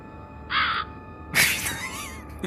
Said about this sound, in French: Dehors, c'est des corbeaux que vous entendez.